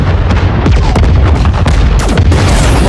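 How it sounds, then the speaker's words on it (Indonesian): Mines detonated in the film Atlas go off in a dense barrage of heavy booms and sharp blasts that keep coming for about three seconds, loud and rumbling with crackling debris. "Atlas pun meminta Smith untuk meledakkan ranjau-ranjau tersebut, dan terjadilah ledakan yang hebat."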